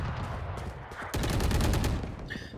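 Rapid gunfire in the shooter game Valorant fires in close, dense bursts, with a sharper volley in the middle of the fight.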